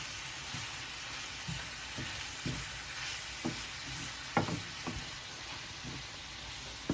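Shredded cabbage frying in a pan for fried rice, heard as a soft, continuous sizzle broken by occasional scraping and stirring clatters of a utensil against the pan.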